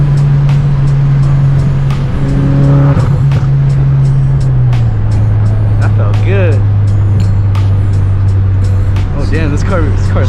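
A Ford Focus RS accelerates hard along an expressway, its engine note droning loud and steady from inside the cabin with gear changes and road roar, while people talk over it.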